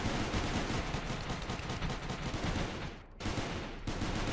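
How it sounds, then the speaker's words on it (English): Rapid automatic gunfire in the game Space Station 14, a dense continuous rattle of fast-firing guns that cuts out briefly near the end before resuming. "Bit more fire going off to the south."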